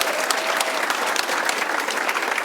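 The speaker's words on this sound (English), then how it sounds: "Give Derek a big round of applause" Steady audience applause honoring a book's author, dense continuous clapping from a crowd filling the whole stretch without voices on top.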